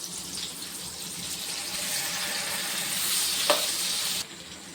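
Jackfruit seeds frying in a pan give off a steady, close sizzle with a faint stirring scrape, holding even for several seconds before cutting off.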